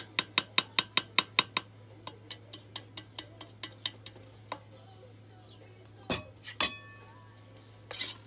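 A spoon clinks rapidly against a bowl while mixing whole-wheat waffle batter, a quick run of sharp taps followed by sparser, softer clicks and a few louder clatters near the end, over a low steady hum.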